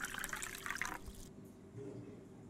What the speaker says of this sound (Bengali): এখানে স্বচ্ছ জল 1 লিটার মতো নিতে হবে